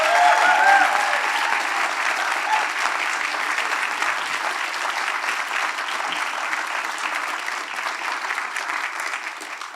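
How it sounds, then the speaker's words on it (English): Sustained applause from a graduation audience honoring eighth graders, dense and steady clapping with some crowd noise and faint voices, loudest at the start and gradually easing across the ten seconds. "one more round of applause for our eighth graders"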